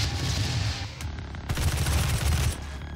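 Bursts of rapid gunfire from a DOOM first-person shooter, loud and dense, firing in volleys with a short pause around the middle, with no talk over it.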